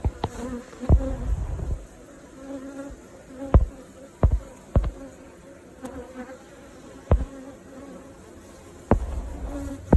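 Bees buzzing inside a beehive with a drone-rearing feeder frame, a steady low insect hum throughout with several sharp knocks and clunks of hive handling; no speech.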